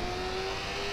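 Car engine in the video game GTA, a steady sustained hum with a constant tone, heard up close and alone with no talk.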